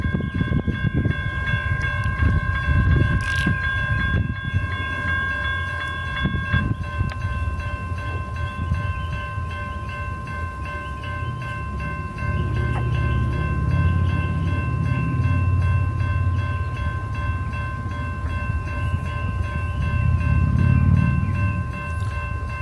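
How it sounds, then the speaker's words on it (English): An Amtrak passenger train rumbles past with steady rail noise and sustained horn-like tones, loud and close, the clatter rising and swelling toward the end. "We have Amtrak train 91"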